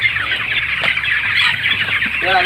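A flock of broiler chickens on a farm clucking and squawking close by, a busy continuous chatter of fowl with no speech.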